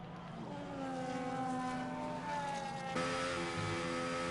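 Formula 1 cars racing in F1 25 roar past in a dense, droning pack, with sustained high engine whine and shifting pitches as several cars run close together; a sharp jump in intensity near the end as another car closes in.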